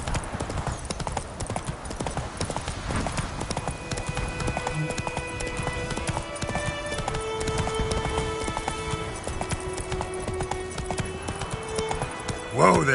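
Roach, the horse in The Witcher 3, clip-clops along in a steady hoof rhythm over ambient game sounds and music. The hoofbeats are close and continuous, with a brief louder burst at the end.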